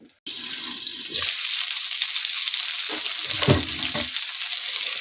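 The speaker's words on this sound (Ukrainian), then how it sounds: "Ну що, я буду далі смажити." Meat cutlets sizzle loudly in a frying pan, a constant hissing crackle with a few brief clinks partway through.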